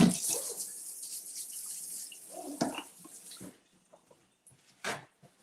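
A kitchen tap runs briefly to rinse, with scattered splashes and clinks that fade out, then a short burst of water near the end.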